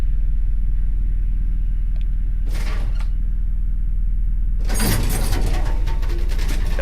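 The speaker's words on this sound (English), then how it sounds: "Front wheels on the suspension tester." A car on a suspension tester in the game Car Mechanic Simulator 2018 sits under a constant low machine hum, with a short creaking burst followed by a loud grinding, rattling rumble near the end.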